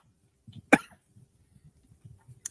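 A single sharp cough stands out near the start, loud and close, followed by quieter throat sounds and low murmuring in a home setting.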